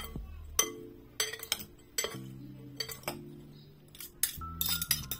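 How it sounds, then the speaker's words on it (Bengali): Chicken is tossed into a quinoa salad with utensils, producing clear metallic clinks and scrapes against a bowl in irregular bursts, close and fairly quiet with brief pauses between strokes. "আমি ভালো করে মিশিয়ে নিচ্ছি চিকেনগুলো সালাদের সাথে"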